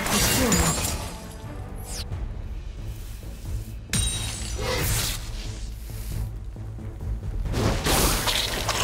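An enemy turret being destroyed in the Wild Rift mobile game, with loud shattering crashes and booms over dense layered game effects and music, several sharp impacts spread across the clip.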